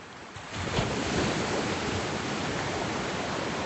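Ocean surf rolls in steadily at Hendry's Beach in Santa Barbara, a broad, continuous wash of breaking waves that swells after the first half second and stays loud and close, with some wind noise against the microphone and no voices.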